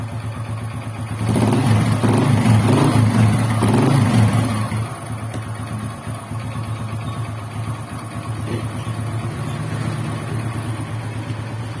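A Honda XRM125 motorcycle engine, freshly reassembled and warming up, runs nearby, briefly revved louder for a few seconds, then settling into a steady, throbbing idle.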